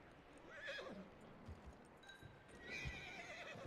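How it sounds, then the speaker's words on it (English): A horse in Red Dead Redemption 2 whinnies and snorts while its hooves stamp and shuffle nearby, the calls rising and falling over a few seconds with no talk. "Focus on the horse. Calm the horse."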